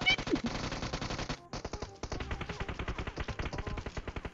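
Rapid automatic gunfire from the PUBG Mobile video game: dense, loud bursts of shots rattle almost continuously, with a brief pause before firing resumes, and a voice faintly mixed in.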